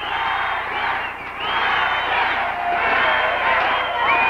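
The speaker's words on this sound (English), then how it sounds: "The crowd solidly behind Marta." A lucha libre wrestling crowd in Austin, Texas roars and chants in support of a female wrestler, a loud, surging cheer that swells and dips in waves with whistles cutting through.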